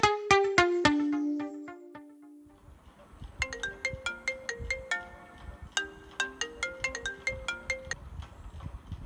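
An incoming phone call rings with a bright electronic melodic ringtone. A brief run of tones is followed by a longer repeating pattern of plucked-sounding notes, clear and fairly close.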